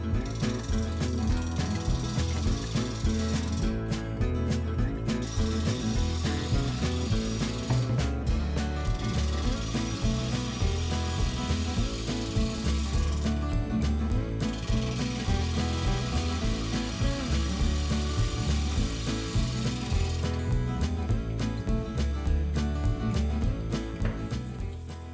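A wood lathe turns a fire-damaged hardwood bowl blank, giving a loud, continuous mechanical rattle and whir with a rapid repeating clatter and bursts of bright tool scraping across the whole stretch, with no talking.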